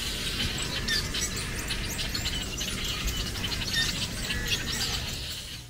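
Many birds sing and chirp at once in Cuba, a dense, continuous chorus of overlapping tweets and calls, with a low rumble underneath.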